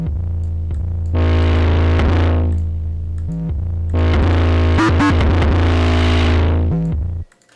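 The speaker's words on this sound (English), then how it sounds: "Blood Overdrive, like a distortion effect or whatever" An 808 bass in FL Studio pushed through the Fruity Blood Overdrive distortion plugin, giving two long, loud, gritty sustained notes with a harsh buzzing upper layer, separated by a short gap and cutting off abruptly at the end.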